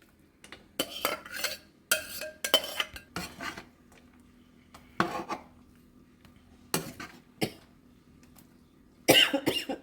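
Fried ingredients stirred into Sri Lankan style seafood nasi goreng: a utensil clatters and scrapes against the pan in separate bursts between quiet gaps, close and fairly loud, with a short cough heard along the way.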